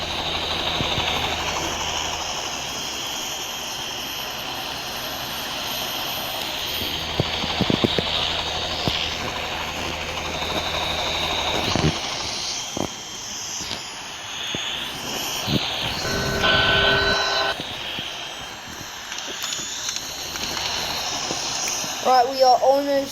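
Apache helicopter in a video game, a sustained engine and rotor drone that shifts in tone and intensity throughout, loud and continuous, with occasional sharper game effects layered on top.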